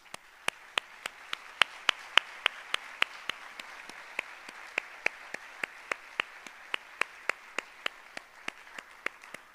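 Sparse, evenly spaced hand claps in an Italian literary event hall, single sharp claps roughly every third of a second, close and dry with little crowd noise behind them.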